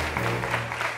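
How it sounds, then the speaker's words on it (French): Brief burst of audience applause at a live televised show, a continuous dense clapping wash filling the moment with no clear pauses. "On va applaudir très fort, s'il vous plaît."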